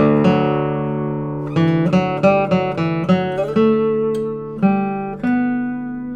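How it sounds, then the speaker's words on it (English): Acoustic guitar notes struck one after another on the low sixth string of a cedar doubletop guitar, low ringing strings with clear sustained tones, several plucks in a loose rhythm, close and fairly loud. "You could strike that 6th string and really feel the power."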